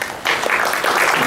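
Audience at a candidate forum in Cameron Park breaking into applause, a dense, loud burst of clapping that starts abruptly and holds steady, with a faint voice underneath.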